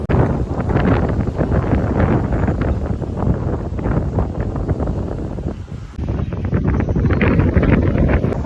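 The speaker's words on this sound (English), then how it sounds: "we have made it to the beach" Wind buffets the microphone on a beach in Barcelona, a loud, rough, continuous rush with a brief lull just before the six-second mark before the gusting returns.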